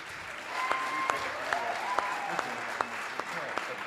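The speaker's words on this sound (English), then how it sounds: "let's keep that applause going" Sparse, moderate claps at a perfume-themed competition finals welcoming three finalists, spaced irregularly over a hum of room noise, with a faint tone and a murmur of voices underneath.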